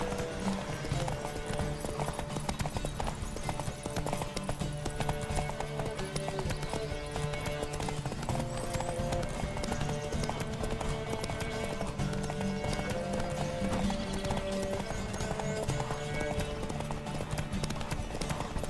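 Horse hoofbeats galloping in a race in The Witcher 3, a steady rapid clip-clop running throughout over game music, with occasional whinnies.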